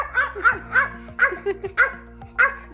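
A small dog barks and yips in a home, about six short sharp barks in an uneven rhythm, close and fairly loud, with a faint steady hum beneath.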